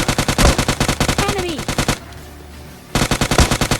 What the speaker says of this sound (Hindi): उसके बाद मैं बग्गी से जाने ही वाला था कि फिर से फायरिंग आ जाती है